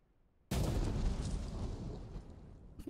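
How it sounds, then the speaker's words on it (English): A detonator-set explosion in a video game crashing out of silence as one huge, close blast, then a long rumbling tail that slowly fades, with no speech. "We can sit here and watch the explosion if it actually does much."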